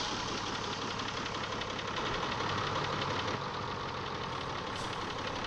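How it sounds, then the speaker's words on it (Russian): A GAZ-66 truck's diesel engine idles in the video game Spintires: MudRunner at a steady, even pace, a low knocking rumble that is fairly faint and unbroken, with no talking. "На дизельных микроавтобусах вот такой звук был раньше."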